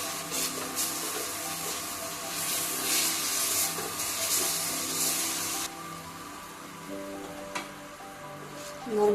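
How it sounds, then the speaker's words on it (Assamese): Spices (coriander, cumin, turmeric and dried red chilli) sizzling in a pan: a steady crackling hiss that eases after a few seconds, then gives way to quieter frying with a brief clatter near the end. "মোৰ মছলাখিনি ভাজা হৈ গ'ল।"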